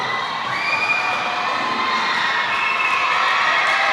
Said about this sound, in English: Everybody cheer for the Derby Dolls.